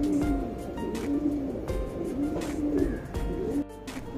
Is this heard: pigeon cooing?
yes